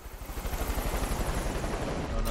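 A helicopter in the video game Far Cry 5 thrums continuously with a steady, rapid rotor pulse, close and fairly loud.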